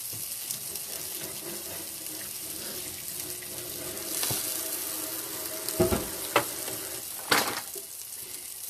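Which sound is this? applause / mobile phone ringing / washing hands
washing hands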